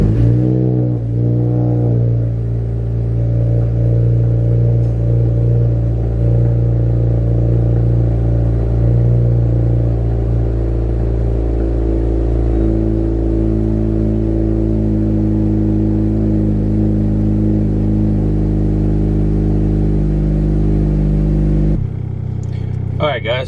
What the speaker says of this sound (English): let's get today's video started with a cold start